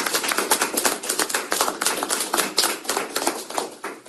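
An audience at a disability conference claps for a panel, a close, lively round of many hands with distinct rapid slaps throughout.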